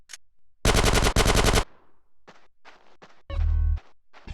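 Gunfire in GTA San Andreas during a street shootout mission: two loud automatic bursts, each under a second, then scattered single shots and a third heavy burst, close and punchy with short gaps between.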